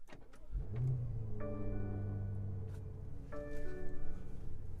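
The engine of a 2020 BMW X5 M Competition, a 617 hp luxury SUV, cranks and fires up from inside the cabin, then settles into a steady, deep idle drone.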